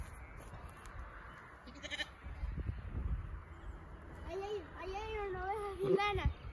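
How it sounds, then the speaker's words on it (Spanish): Goats and sheep bleat in a pasture on Chiloé, Chile, with several wavering calls in the second half, close and fairly loud, while people talk in the background. "Vine a saludar a las cabras y las ovejas."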